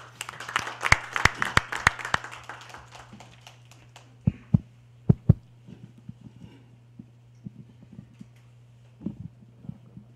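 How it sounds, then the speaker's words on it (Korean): Applause from an audience at a university presidents' summit, a burst of clapping in the opening seconds that thins out into scattered, sparse claps before a speaker begins. "박수로 맞으시기 바랍니다."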